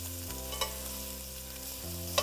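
Meat sears in a pot after being flipped, a quiet, steady sizzle with a couple of sharp pops, over a low, even music bed.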